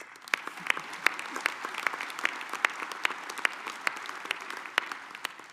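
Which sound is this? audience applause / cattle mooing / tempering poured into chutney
audience applause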